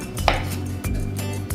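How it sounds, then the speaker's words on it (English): A knife strikes a cutting board while a bell pepper is chopped into strips, giving a few sharp, close taps and knocks spaced unevenly over a steady low hum, with no talking. "I'm just going to cut it into strips, and then I'm going to just give it a little bit of a mince."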